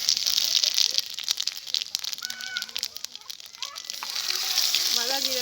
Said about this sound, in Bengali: আমি ফোড়নে দেবো জিরে